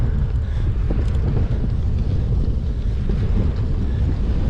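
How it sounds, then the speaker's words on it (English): Strong wind buffeting the microphone while riding a bike on the Good Neighbor Connector Trail in Brooksville, Florida, a loud continuous low roar and rumble with no voices. "Why does it always have to be windy when I ride on these things?"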